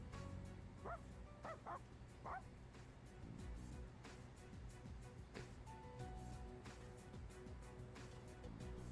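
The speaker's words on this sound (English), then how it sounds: "That dog just said bark." Dog barks from the Persona 3 Reload video game: a few short yipping barks near the start, set over steady game music and ambience.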